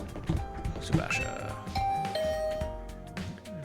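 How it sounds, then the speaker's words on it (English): A chiming doorbell rings to a student's room in the video game The Hundred Line: Last Defense Academy, a couple of bright tones ringing out over soft game music, moderately quiet. "I rang the doorbell to Tsubasa's room"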